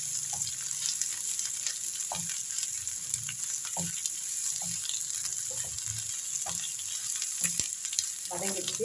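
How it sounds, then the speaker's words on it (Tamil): Steady crackling sizzle of ginger and garlic sautéing in a hot pan, with periodic soft scraping stirs throughout. "பாருங்க, நல்லா வதங்குது."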